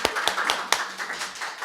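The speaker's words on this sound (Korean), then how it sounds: "박수." Brief applause from a church congregation during a Sunday worship service, a short burst of scattered hand claps that rises quickly and fades within under two seconds.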